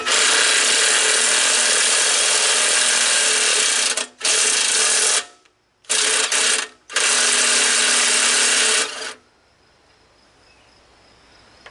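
Self-tapping screws from a newer GT Craftsman are driven in and out by a power driver to clean up threads on a Wheel Horse Commando 8 that sat for years: loud, close whirring bursts with brief pauses, then stopping.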